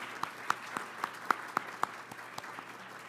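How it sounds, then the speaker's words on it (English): A few people at an awards luncheon clap sparsely, a thin scattering of separate claps over a low steady room hum. "Alston & Bird, you can give them some applause."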